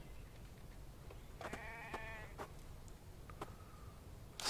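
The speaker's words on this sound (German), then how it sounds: "Hier gibt es auch auf jeden Fall ein Schaf. Ich hab's gehört." A sheep bleats in the video game The Infected, one wavering call in the middle of quiet ambient background, followed by a few soft knocks and a brief thud at the end.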